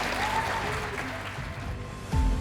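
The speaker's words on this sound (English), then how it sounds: "Would you please give a great big round of applause to Mr. Ben Yu." An audience applauds a guest speaker being introduced, giving steady, moderately loud clapping with a low thump and a brief tonal sound mixed in near the end.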